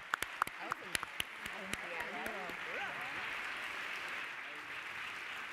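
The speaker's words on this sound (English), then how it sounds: "Can I ask you all to join me in giving a warm applause and thank you to our panelists?" An audience at a human rights anniversary event gives the panelists a round of applause: a few sharp, close handclaps first, then a sustained even wash of clapping with voices mixed in.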